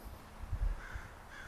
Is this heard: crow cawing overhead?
yes